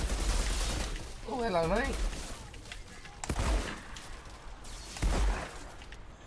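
Gunfire in the video game Outriders lands as several sharp, loud shots spaced a second or two apart, with a warbling synthetic effect early on and someone talking between the bursts.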